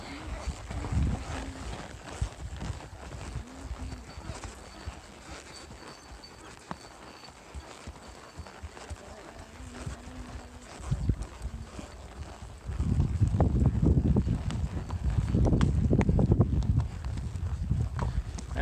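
Hooves of horses walking a trail on a Texas horseback camping ride, an irregular clip-clop under wind and occasional voices, growing louder and denser near the end.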